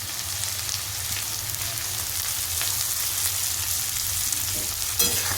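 Chopped capsicum and vegetables fry in a pan with salt, giving a continuous bright sizzle and crackle, punctuated by occasional stirring scrapes and a sharper clatter near the end.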